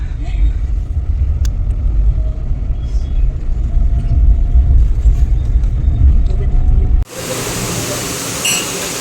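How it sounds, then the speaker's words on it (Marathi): Continuous low engine rumble and road noise from inside a moving car, with voices talking over it, then a sudden cut to a hissier, quieter interior. "कवीश गाडी चालवत आहे"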